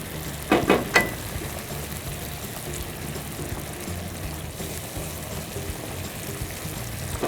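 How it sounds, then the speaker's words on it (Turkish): Garlic and red pepper flakes frying in a pan for garlic meatballs, a steady close sizzle with a couple of brief clatters near the start, no voices. "Biraz da tabii pul biberimi ekliyorum. Birazcık daha kavuracağım."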